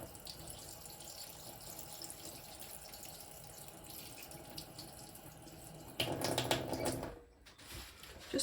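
Water runs steadily from a tap while moss is rinsed, a soft continuous stream that swells into a louder splashing gush near the end before briefly cutting off.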